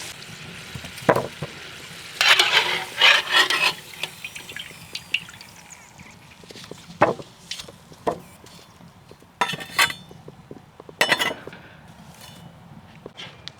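Potatoes frying in hot oil in a kazan, being stirred: a steady low sizzle broken by scattered scraping and clattering bursts of the utensil against the pot, with no talking.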